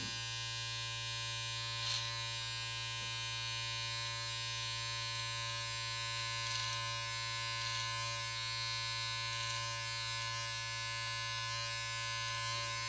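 An electric beard trimmer with a number 6 guard runs steadily close by, a constant buzzing hum that holds unbroken, with small scratchy bumps as it passes through the beard.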